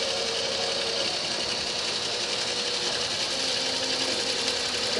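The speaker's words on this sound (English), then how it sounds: "The machine is run with belts for both the X and Y axis" A belt-driven CNC machine on X and Y axes runs steadily, giving off a continuous whirring, buzzing motor whine with faint mechanical ticking, fairly loud and alone with no talk.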